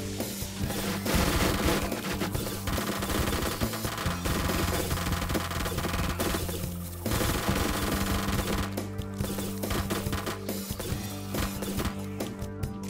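Rapid bursts of AK rifle fire in the survival game 7 Days To Die ring out loud and sustained during a base defense, with brief pauses between volleys and game music or ambience beneath.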